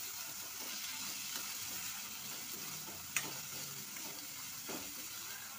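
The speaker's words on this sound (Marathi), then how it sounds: "लसूण ठेचून घेतलेला आहे आणि आता मी धुतलेली मुगाची डाळ टाकून घेते" Crushed garlic and washed moong dal go into a hot frying pan, giving a steady broadband sizzle with light stirring scrapes and a sharp clink near the middle, continuous and close with no talking.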